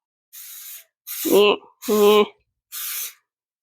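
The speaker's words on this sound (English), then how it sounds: "We're going to the sink, and we gotta spray it." Short bursts of hiss from a kitchen sink sprayer, four separate sprays with pauses between, a voice speaking briefly over two of them.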